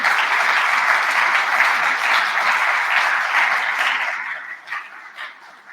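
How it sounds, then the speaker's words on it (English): Applause for the hosts at a closing ceremony in Mongolia, a dense, steady crowd clapping that fills the room for several seconds, then thins and fades to scattered claps. "Please give a round of applause to the Mongolian hosts."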